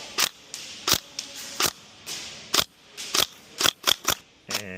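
Tokyo Marui NGRS airsoft gun firing in single shots, about a dozen sharp clicks and snaps spaced irregularly with short pauses, close and crisp with no talking.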